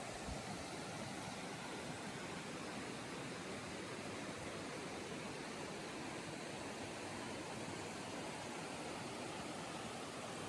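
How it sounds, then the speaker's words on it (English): Steady, broad rushing of Deep Creek in the Smoky Mountains, constant and unbroken throughout, with no voices or other distinct sounds. "I got Deep Creek that's running to my left that you probably can hear"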